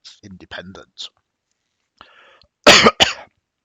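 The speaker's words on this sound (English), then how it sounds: "He coughs again." A short burst of harsh coughing, two quick coughs close by, following a few murmured sounds.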